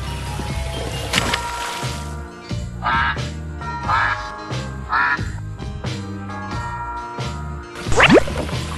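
A cartoon duck quacks three times at roughly one-second intervals over a bouncy backing tune with jingling chimes, followed by a rising sweep near the end.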